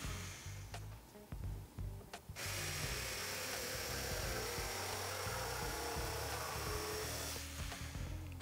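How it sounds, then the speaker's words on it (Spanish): A jigsaw buzzes slowly and continuously through wood, starting after a few clicks and knocks, with a sustained loud rasping drone. "Y lo cortamos con la caladora despacito"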